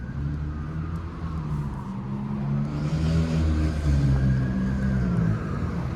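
A Toronto city bus on route 41 pulls up at a stop in the Silverthorn neighbourhood of York, its low diesel engine rumble rising steadily as it nears, with street traffic noise around it.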